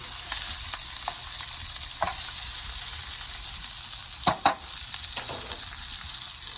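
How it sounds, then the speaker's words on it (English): Vegetables sauteing over high heat in a pan for brown stew catfish, a continuous close sizzle with a few spatula clicks and stirring knocks, no talk. "Sauteing our vegetables here."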